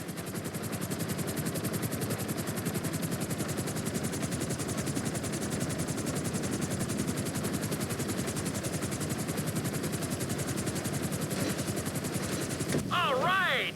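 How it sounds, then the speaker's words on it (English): A helicopter in GTA V descends onto a helipad, its rotor beating in a fast, steady thrum that stays loud and close the whole time before a brief shift near the end. "Bring the helicopter down gently onto the helipad."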